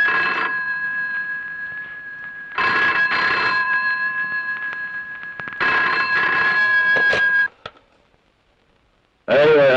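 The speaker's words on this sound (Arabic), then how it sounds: "سيبه يرن شوية." A telephone rings in long repeated bursts, close and loud, in a scene from the Egyptian film Azbet El Safih; the ringing stops briefly before a voice starts at the very end.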